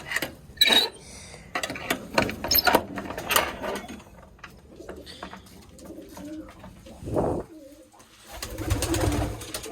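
Pigeons coo softly in bursts in a loft among rustling and clattering noises of egg trays being handled, with occasional flutters and a louder flurry near the end.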